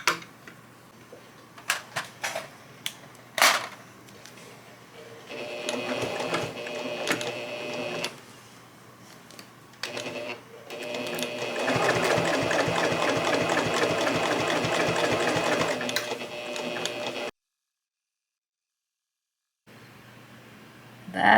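A sewing machine stitches in the ditch on a finished quilt, a close mechanical whir in stretches of rapid, even chatter broken by pauses and clicks, running longest near the middle before stopping into silence.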